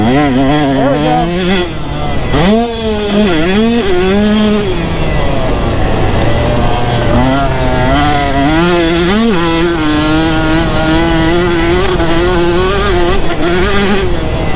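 A well-jetted two-stroke motorcycle is ridden hard, its engine loud and close as it revs up and down through sharp, buzzing climbs before settling into a sustained high drone.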